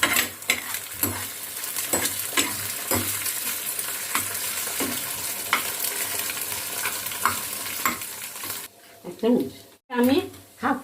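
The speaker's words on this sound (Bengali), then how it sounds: "সবজিগুলো ফ্রাই হয়ে গেছে, এবার আমি এতে একটা ডিম দিয়ে দেবো।" An egg frying and being stirred with vegetables in a pan for fried noodles, steady sizzling broken by repeated scraping stirs, with a person talking briefly near the end.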